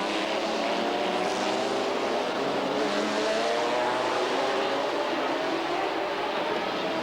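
BMW and Porsche GT race cars from the 1997 FIA GT round at Helsinki roar past on a street circuit, a loud continuous engine drone with rising pitch as they accelerate, steady throughout with no talk.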